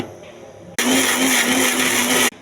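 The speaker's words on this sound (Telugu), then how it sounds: "కొంచెం ఉప్పు, ఇవన్నీ వేసి మిక్సీ వేయాలండి." A kitchen mixer grinder blending coriander chutney with coconut, dried red chillies, tamarind and salt starts abruptly and runs loud and steady with a high whine for about a second and a half, then cuts off.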